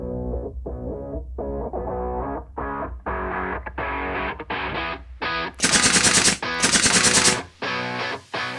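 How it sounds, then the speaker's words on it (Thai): Bursts of rapid, distorted gunshot popping at a shooting range in quick strings, some sharper and brighter, loud and close with brief gaps between volleys; sounds electronic rather than natural. "ยิงปืนเป้านิ่ง ปืนหนัก 2 กิโลกรัม"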